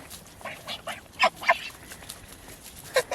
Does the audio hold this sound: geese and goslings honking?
yes